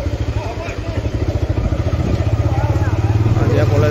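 A motorcycle engine chugs in a rapid, even pulse while riding past a college campus, loud and close, its throb building slightly partway through with no talk over it.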